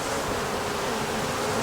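Honey bees clustered at a swarm trap, a continuous dense buzzing hum, close and loud, with no pauses or voices.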